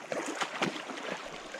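A small mountain creek in the Sawtooth Mountains of Idaho burbles and trickles close by, a soft, irregular gurgle of water running steadily on its own.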